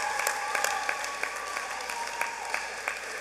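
A graduation audience at a high school design school's Class of 2021 ceremony, held in rainy weather, gives a sustained round of applause with crisp individual claps standing out throughout.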